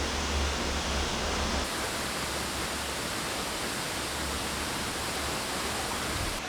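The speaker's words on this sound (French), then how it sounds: "on entend aussi la cascade" Steady, dense rushing of falling water from a small waterfall, the Passy cascade in Vietnam, constant and fairly loud with no voices.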